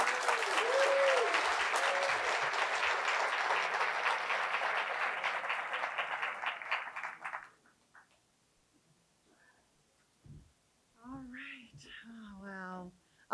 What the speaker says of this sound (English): another round of applause for all the winners